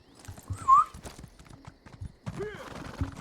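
A horse being mounted in Elder Scrolls Online, with a brief whinny early on, then a run of hoof clip-clops and some rattly movement. The sounds are moderately loud and close, and no speech is heard.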